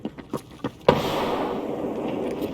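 A grenade blast in the shooter Escape From Tarkov, a sudden loud burst followed by a long, dense rumbling decay, with a few short sharp cracks just before it.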